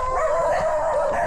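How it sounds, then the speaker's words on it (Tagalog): A dog gives a short, steady whimpering yip, heard close and alone with no talk. "Aso."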